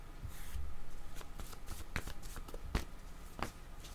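Tarot cards shuffled and drawn by hand, a steady papery riffle with several sharper snaps as cards are slapped down, close and clear with no talking.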